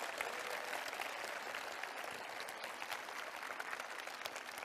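Dense, sustained applause from a large crowd at an outdoor talk concert at a citizen participatory budget festival in Seongnam, steady and continuous from start to finish.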